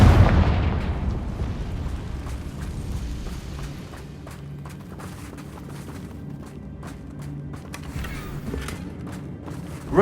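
Confringo fire spell exploding in Hogwarts Legacy, a heavy boom at the start that decays into a rumbling tail, followed by scattered crackles and low background game noise.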